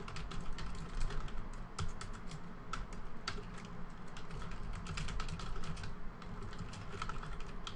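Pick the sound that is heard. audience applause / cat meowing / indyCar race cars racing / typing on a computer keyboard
typing on a computer keyboard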